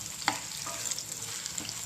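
Bitter gourd pieces frying in a pan make a continuous close sizzle with a few sharp spatula taps and scrapes, no voices.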